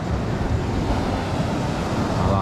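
Ocean waves wash steadily onto the deep-water beach at Praia da Sununga, a continuous loud roar of surf mixed with wind buffeting the microphone, with no voices.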